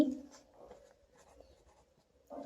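Pen or pencil writing a geometry statement by hand on paper for a class 10 maths problem, faint short scratching strokes up close in a quiet room.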